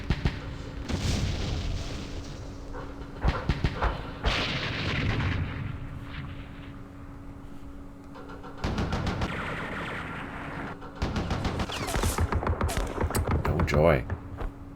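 Mortar fire in the Vietnam war game Campaign Series Vietnam, Dien Bien Phu battle: repeated bursts of booming, crackling detonations separated by quieter gaps, with a person talking at times.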